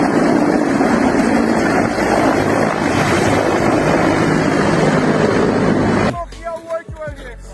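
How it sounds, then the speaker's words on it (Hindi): A helicopter makes a failed but lucky landing in which the front landing gear strut breaks off. A loud, steady roar of rotor and wind noise lasts about six seconds, then cuts to a quieter stretch with scattered knocks and faint tones. "यहां भी एक हेलीकॉप्टर की अनसक्सेसफुल लेकिन लकी लैंडिंग देखने को मिली।"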